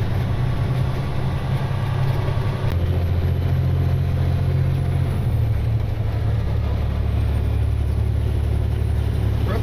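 A heavy truck pulling a trailer climbs a road after its engine brake is switched off, its engine droning steadily and loud close by, with a low rumble shifting partway through and no talk.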